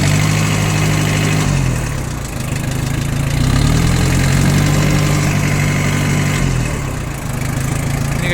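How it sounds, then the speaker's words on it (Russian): A Mitsubishi MT2201 tractor engine idles steadily in below-freezing weather after a cold start, a continuous low throbbing drone with a slight dip and recovery in the middle, close and alone without voices. "Работает хорошо трактор, поэтому напомню, Mitsubishi MT-2201"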